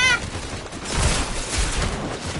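Gunfire in a Fortnite match: a dense burst of rapid shots near the start, then rumbling bursts of fire and impacts continuing for a couple of seconds with little talk.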